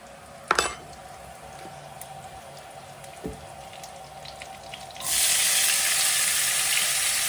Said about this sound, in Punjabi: ਤੇਲ ਦਾ ਤੜਕਾ ਵੀ ਦੇਸੀ ਘਿਓ ਨਾਲ ਵਧੀ ਹੁੰਦਾ